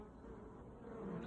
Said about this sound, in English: There's quite a lot of bees on the bottom of this one.